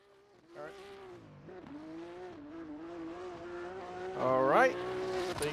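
A race car in a sim racing game at an Englishtown track, its engine a steady tonal drone that rises into a louder rev near the end, heard under quiet background voices.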